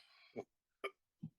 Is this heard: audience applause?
no